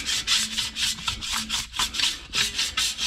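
A cloth wipes brake dust left by Ferodo brake pads off a car wheel rim. About a dozen quick rhythmic rubbing strokes sound close and crisp, with no talk.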